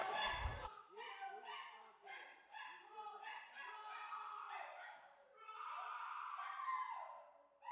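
A dog yelps and whimpers in short, agitated bursts during a loud city council meeting, its high cries repeating close by with a brief low thump at the start.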